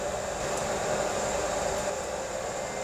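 A FreshRoast SR500 roaster roasting green coffee beans, a steady loud whooshing hot-air blower noise like a hair dryer, constant and close with no talking.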